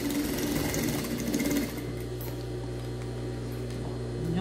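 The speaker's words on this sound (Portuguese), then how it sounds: "Dos dois lados nós vamos fazer essa costura." A sewing machine runs close and steady, stitching a pet harness with heavy thread, its rapid mechanical chatter easing slightly partway through.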